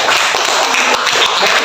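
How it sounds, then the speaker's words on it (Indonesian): Classmates clap for a student group after its presentation in a classroom, a loud, close burst of many hands clapping continuously for a moment. "Tepuk tangan untuk kelompok BJHBB."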